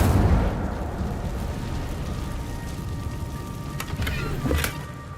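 Incendio fire spell in Hogwarts Legacy bursts loudly at the start, then a roaring, crackling fiery rush continues with a few sharp pops and flares near the end.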